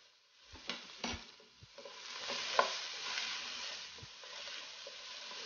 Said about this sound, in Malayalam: ഉപ്പ് ചേർത്ത് കൊടുത്ത ഉള്ളിയൊക്കെ നല്ലതുപോലെ വഴന്ന് വരും